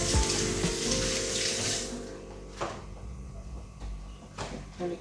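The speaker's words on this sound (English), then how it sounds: "let's just go check on, wash my hands" Tap water runs steadily into a sink during handwashing in a home kitchen, a continuous close splashing hiss for the first two seconds, then softer trickles with a few knocks and clatters.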